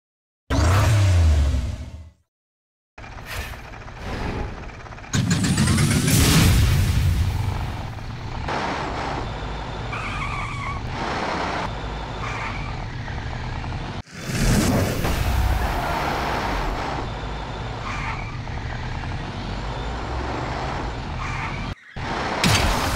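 Monster trucks race and launch off ramps in the Hot Wheels Unlimited video game: loud revving engines, whooshing jumps and skidding tires with abrupt cuts and sudden bursts, no talking.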